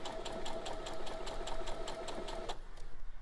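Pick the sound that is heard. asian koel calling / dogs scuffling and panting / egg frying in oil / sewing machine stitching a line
sewing machine stitching a line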